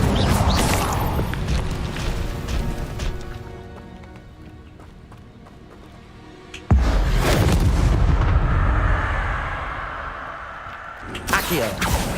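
Incendio fire spell cast in the video game Hogwarts Legacy, a sudden loud burst of roaring, crackling flame after a quieter stretch, with another strong blast at the very end.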